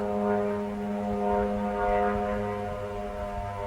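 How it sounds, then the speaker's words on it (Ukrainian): Shahed drone flying overhead, a steady droning propeller engine with a strong tonal buzz and a slightly wavering level, distant but clear, without talking. "Рашистський дрон, сука, летить."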